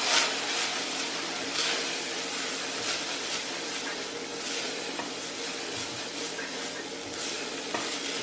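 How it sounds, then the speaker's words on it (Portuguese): Garlic sizzles and crackles steadily in a hot frying pan, a continuous close frying hiss with no one talking. "Depois que eu dei uma fritadinha aqui no alho"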